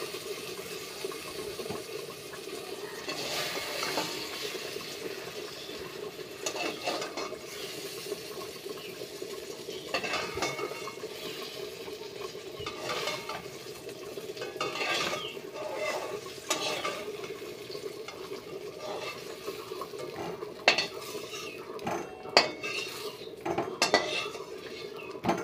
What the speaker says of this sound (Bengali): তো একে একে সব বেগুনগুলো আমি তুলে নেবো। এখন তুলে নিচ্ছি বেগুনগুলো